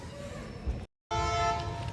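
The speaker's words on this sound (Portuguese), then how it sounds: "aí atrás passa o trem" A train passes close behind a person standing outdoors, giving a steady loud rumble with tonal rail squeal, cut by a brief gap of silence before it resumes.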